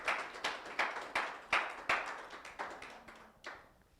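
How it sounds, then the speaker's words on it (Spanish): A church congregation claps in unison, roughly a dozen strong rhythmic claps spaced about a third of a second apart, resonant in a reverberant room and gradually fading toward the end. "Denle un aplauso al Señor, al Rey de Reyes y Señor de Señores."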